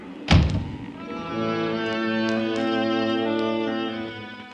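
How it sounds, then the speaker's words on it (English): A single heavy thud of a door banging shut aboard a ship in a typhoon in a radio drama, followed by a sustained low tonal hum that lingers for several seconds. "I can't stand to hear a door banging."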